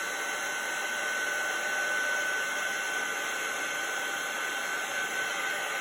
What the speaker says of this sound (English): I'm going to heat this up with my heat gun.